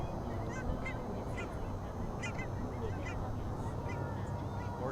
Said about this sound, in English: More cackling geese.